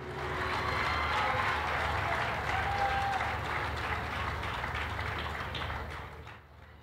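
Audience at a concert breaks into sustained, dense clapping to wish someone a happy 100th birthday. The applause is loud and steady for about six seconds, then tapers off at the end.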